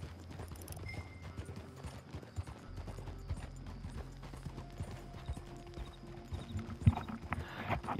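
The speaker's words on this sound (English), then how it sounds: "My horse's trot is almost equal to your horse's." Horse hooves trotting in the Red Dead Redemption 2 video game, a steady rhythmic clip-clop of repeated hoof beats with light tack rattle, fairly quiet and without talk.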